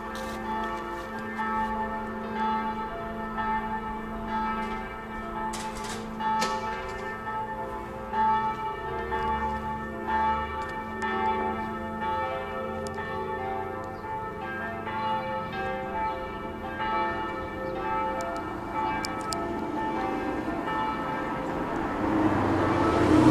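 Church bells ring steadily and resonantly for a long stretch, their overlapping tones sustaining and swelling slightly toward the end.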